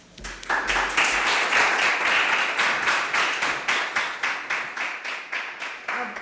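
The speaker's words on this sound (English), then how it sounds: "Please, an applause." Audience at a startup pitch competition claps for the next speaker, starting in a dense burst that settles into a slowing, rhythmic patter of distinct claps before fading.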